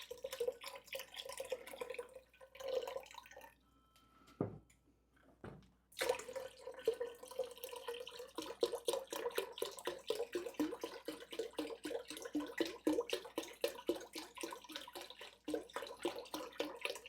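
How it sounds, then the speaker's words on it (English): Water poured from a container into a soup pot holding softened onions and low-sodium beef broth on a home stove, a steady close splashing stream running for most of the stretch after a short pause, with no talking. "And I'm going to add 2 cups of water."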